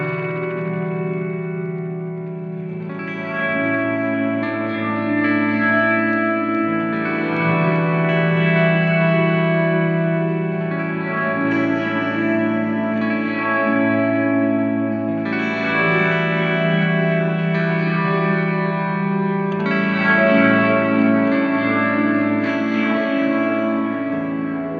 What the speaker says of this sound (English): I never had the Terra Echo until I had this